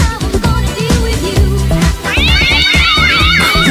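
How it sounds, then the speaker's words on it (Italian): Cat meows in a dance record played on radio rise and fall as a cluster of wavering cries over a pounding loud beat, joining the track partway through. "Sentite il tripudio di gatti qui, eh?"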